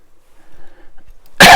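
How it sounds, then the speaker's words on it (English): A single sharp cough bursts out close and loud at the very end, after a quiet stretch with only faint background sounds. "Excuse me, cough's not much better."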